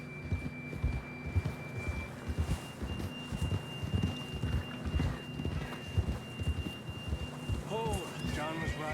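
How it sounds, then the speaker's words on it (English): A horse gallops in the Red Dead Redemption 2 video game, with rhythmic hoofbeats thudding steadily throughout under some talk. "John was riding that horse when we left Blackwater"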